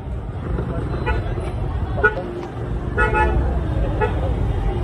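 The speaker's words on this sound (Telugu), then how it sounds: "మనకి ఇంకా ముందట ఒక ట్రాఫిక్ కూడా ఉంది." Road traffic on a Goa street with several car and bus horns tooting intermittently over a steady rumble of engines, while a person talks throughout.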